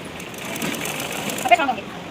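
Sewing machine running steadily while double-stitching a Panjabi dress, a continuous close whirring hum with a brief louder burst near the end.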